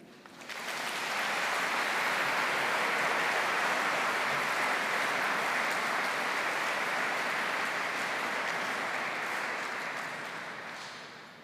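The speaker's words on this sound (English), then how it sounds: "Please can you give another round of applause" Sustained applause from a large crowd at a university graduation ceremony, swelling in and holding steady for several seconds before tapering off slightly at the end.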